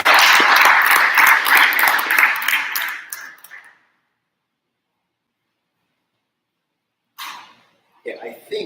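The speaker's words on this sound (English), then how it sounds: "So how would I get a round of applause for that number there?" An audience gives a round of applause at a sales talk, a burst of loud clapping for about three seconds that fades into silence before brief sounds return.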